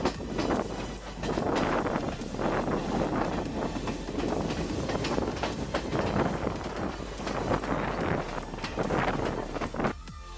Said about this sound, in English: the train ride from Kandy to Adams Peak